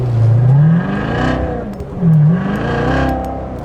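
Supercharged Corvette Z06 pulling into traffic, engine revving hard twice in close, loud surges with a whine rising through each pull, no talk over it.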